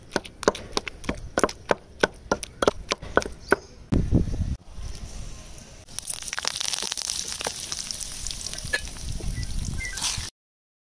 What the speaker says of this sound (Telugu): మిర్చి వేయించేసుకొని పచ్చడి రెడీ చేసేసుకుందాం